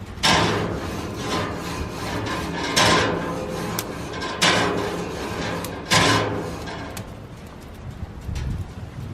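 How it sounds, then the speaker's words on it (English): A hot braai cooking grate is scrubbed with a metal brush in several long, harsh scraping strokes, loud and close, with short gaps between passes and quieter scraping toward the end. "let the cooking grate heat up, and then give it a bit of a scrub with a metal brush"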